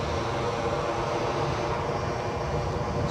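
An EasyJet aircraft departs Edinburgh Airport for Munich, giving off a steady, broad engine roar from a distance that holds level and unbroken.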